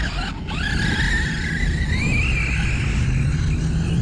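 A Redcat Kaiju RC monster truck runs outdoors in the cold, its electric motor giving a steady rising whine over rough ground noise, with a brief dip near the start where it lands.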